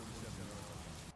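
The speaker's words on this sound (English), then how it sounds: "I'll turn the rain off." Rain from the weather effect in a college football video game hisses as a dense, continuous wash, close and uniform, then cuts off abruptly near the end.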